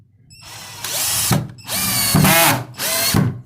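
A Philco Force PPF03M 12V cordless drill driver with impact function whirs at fast speed in three loud, close bursts, driving a screw into wood with short gaps between.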